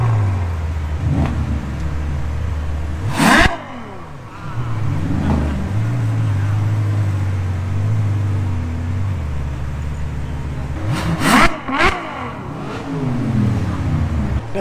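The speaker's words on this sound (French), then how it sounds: "Et le V12 quand il se met à hurler, c'est juste fou" A Ferrari 812's V12 howls through repeated revs in Monaco, with sharp climbing blips and long sustained drones up close, plus an Audi RS5 V8 cabriolet nearby and passing traffic between bursts.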